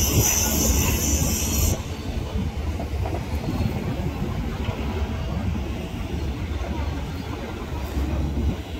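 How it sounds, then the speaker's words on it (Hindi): A train rolls across Rajghat bridge with a steady, loud rumble of wheels on rails that holds for the whole stretch, a faint rhythmic clatter running beneath it. "और ये सामने देख रहे हैं आप राजघाट पुल पर से ट्रेन गुजरती हुई।"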